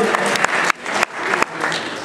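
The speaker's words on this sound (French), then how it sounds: "On peut applaudir" Applause at a political rally in Caen breaks out from the crowd, a dense burst of clapping with brief dips and surges, close and fairly loud.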